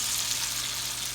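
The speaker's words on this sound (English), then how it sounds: "You turn it just a little bit more because I want it seared." Steak sears steadily in a hot pan, a continuous broadband sizzle with no pauses, close and fairly loud, with brown butter nearby for a steak sandwich.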